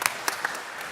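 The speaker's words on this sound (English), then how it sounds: "Clap for everybody." Brief applause from a church congregation at a Sunday service, a few sharp claps rising over a soft room wash, fairly faint and distant with no voices.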